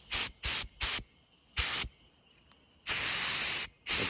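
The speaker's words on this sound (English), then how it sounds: "I'm putting the air compressor on here" An air compressor nozzle blows out the carburetor jet of a Troy-Bilt lawn mower, producing a series of short, sharp blasts of hissing air followed by a longer sustained burst. The blasts sound close and moderately loud.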